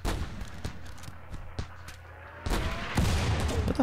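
Gunfire during a siege in the video game Rimworld: scattered single shots pop at irregular intervals, then grow denser and louder toward the end, set against a low background rumble.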